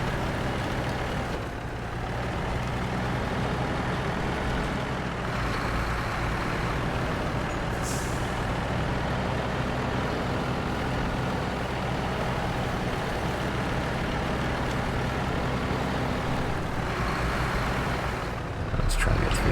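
Paystar heavy truck grinding over rough off-road terrain in SnowRunner, a steady loud low diesel engine drone with rumbling and creaks, continuous throughout with no talking.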